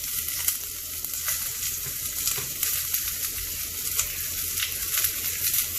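Onions for a mutton curry fry in a pan, giving a steady, close hiss and crackle that holds even throughout, with faint stirring and no speech.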